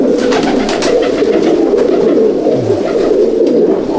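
A female Madras Gidar pigeon coos steadily and low, close by, in a continuous soft murmur that runs through the whole stretch with no talking.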